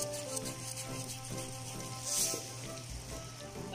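Mutton karahi sizzles steadily in hot oil with garam masala and salt, a continuous close crackle and hiss with faint stirring, no voices.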